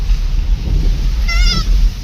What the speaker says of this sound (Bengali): ও ভিতরে ছাগল আছে ব্যাগে।